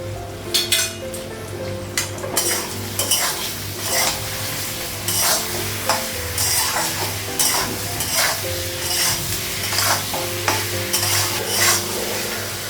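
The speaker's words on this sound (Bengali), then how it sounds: "লঙ্কা গুঁড়ো দেবো, কাঁচা লঙ্কা আর একটু ভেজে নেব।" Chilli powder and green chillies fry in a pan for a fish curry with taro and potato, sizzling continuously while a utensil stirs and clinks against the pan in steady, close strokes.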